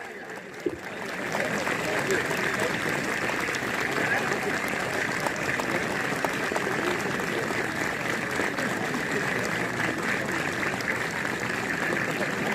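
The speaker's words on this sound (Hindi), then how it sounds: "ये तालियां लग रहा है भट्ट जी के लिए लग रही हैं, इसलिए लगातार जारी है" Continuous applause at a police PAC battalion passing-out parade in Gonda, dense steady clapping from a large assembly that runs unbroken from start to finish at even loudness.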